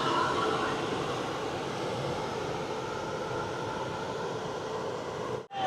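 Steady broadband rumble of a train idling at a railway platform beside the engine on a journey to Tirupati, loud and continuous with no voices, cutting out abruptly near the end.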